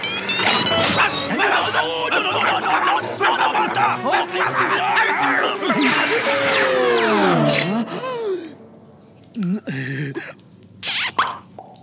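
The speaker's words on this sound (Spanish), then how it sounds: "Lindo perrito" A dog barks and yips in loud, close bursts, the rapid calls rising and falling before trailing off into a few shorter yelps and gaps.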